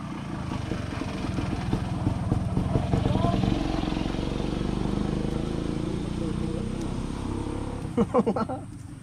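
A motorcycle engine runs nearby, with a steady low idling rumble that swells slightly and then eases, under people talking and a few louder knocks near the end.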